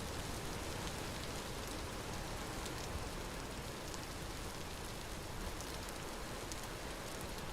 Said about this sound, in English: Because it's dark and rainy.